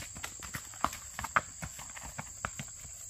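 A buckskin gaited horse's hooves clop and splash through a creek in a quick, even walking and racking rhythm, faint and fairly close.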